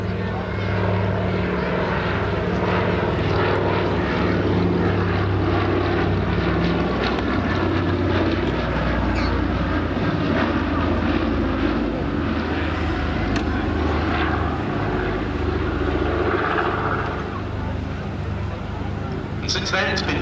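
Radial piston engines and propellers of a Consolidated Catalina flying boat in OA-10A rescue colours at East Kirkby, heard as a loud, steady, close droning rumble that holds for the whole stretch, with a voice talking over it.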